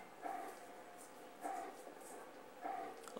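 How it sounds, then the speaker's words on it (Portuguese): Hiwi the dog from the video game Haunting Ground barks three times, in evenly spaced bursts roughly a second apart, with a faint hum of game ambience underneath. "Oh, o Hiwi está latindo?"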